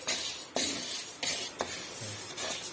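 Lentils (dals) dry-roasting in a pan while a spoon stirs, making close, rhythmic scraping sweeps over a soft, steady rustle, with no talking.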